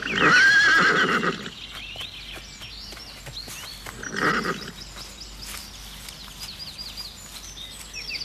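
A horse gives a loud, close whinny with a quavering pitch, then a softer second neigh a few seconds later, over quiet background with faint chirps.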